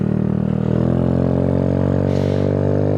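A motorcycle with a loud aftermarket exhaust system drones loudly and climbs steadily in pitch as it accelerates, a deep throaty exhaust note throughout.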